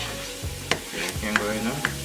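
Stirring vegetables sauteing in a pan for oxtail rasta pasta: a steady close sizzle runs under a few sharp scrapes and clicks of the utensil against the pan.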